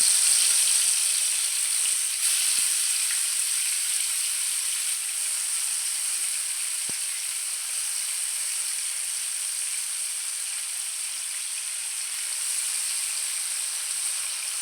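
Prawns fry in hot oil in a pan, producing a continuous high sizzle and hiss that eases slightly after the first seconds, with a couple of faint clicks.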